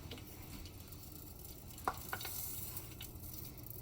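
Butter simmering in a stainless pan for noisette, a soft, faint bubbling sizzle with a couple of light clicks of the pan or spoon, alone without talk.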